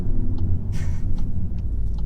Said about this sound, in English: I have to upshift.